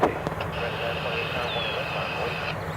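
An American Airlines jet takes off at DFW Airport, a steady, broad roar of engine noise that holds throughout with voices over it.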